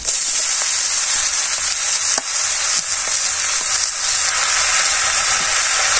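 Vegetables fry in a pan with turmeric and salt in a rural village kitchen, giving a steady, loud, close sizzle that holds throughout with a few faint stirring scrapes.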